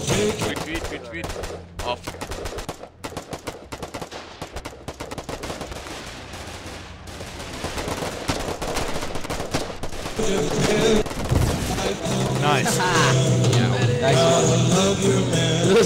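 Foxhole battle at a gate against an advancing armored car, with sharp shots and automatic bursts that start sparse and choppy, then build into constant heavy firing and rumbling explosions amid game noise.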